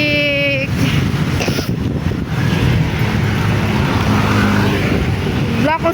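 Road traffic near a heritage park in Taguig makes a loud, steady rumble mixed with wind buffeting on the microphone, with a few brief higher tones at the start and end.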